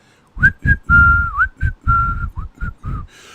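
A clear, close whistled film theme from Kill Bill, short notes and a few held tones, with a quick upward slide into the opening pitch, played alone.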